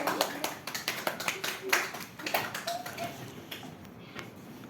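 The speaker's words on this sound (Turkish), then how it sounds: "alkışlarla yerini alıyoruz" Classroom children clap for a student during a second-grade quiz, a run of uneven, fairly close claps that thins out and fades toward the end, with faint voices in the room.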